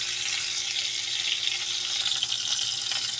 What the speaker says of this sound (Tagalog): niluto siya sa sarili niyang mantika